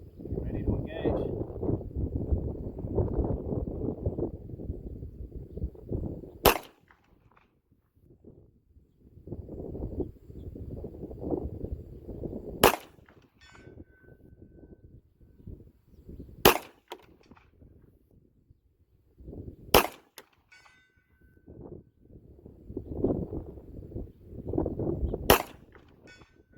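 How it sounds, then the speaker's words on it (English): A B&T USW-G17 pistol fires single shots at IPSC targets out to 200 yards, sharp cracks spaced several seconds apart amid wind noise, with someone talking between shots. "Oh, that was 5 shots, I think."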